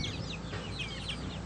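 Chickens cluck and chatter softly nearby in a brief, quiet burst of overlapping calls.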